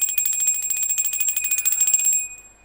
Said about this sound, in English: we will go ahead and ring the bell